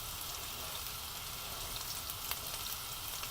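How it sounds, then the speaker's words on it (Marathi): Chopped onion sizzles steadily in hot oil in a pan, a constant close crackling hiss at low volume with faint pops and no voices. "छान तेल तापलेलं आहे. आवाज येतच असेल तुम्हाला कांद्याचा."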